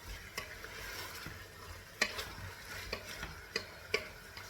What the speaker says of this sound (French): Les épices avec toutes les épices que je vais mélanger.